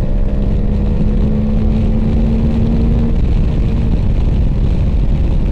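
A QJ Motor motorcycle engine drones loud and close under throttle, with a steady humming tone riding over heavy low-end rumble and rushing noise.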